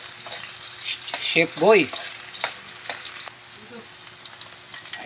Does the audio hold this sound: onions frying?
yes